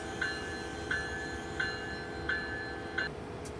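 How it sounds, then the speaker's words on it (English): A train rolling past in Train Simulator near Croxton, New Jersey Transit, with a steady rumble under evenly spaced clicks from wheels crossing rail joints, about five in a row, and no talking. "Oh, another train."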